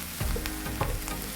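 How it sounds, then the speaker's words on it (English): Garlic fries in a pan as it is stirred for a minced beef stew, a close, busy sizzle broken by rhythmic scraping strokes of the spoon, with no voices. "So I'm going to stir until our garlic is perfectly cooked"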